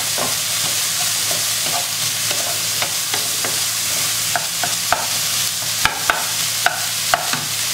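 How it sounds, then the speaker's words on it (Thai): Soaked shiitake mushrooms stir-fried in a pan: a continuous close hiss of frying with irregular scraping and clacking strokes of a spatula, growing sharper toward the end. "เอามาผัด"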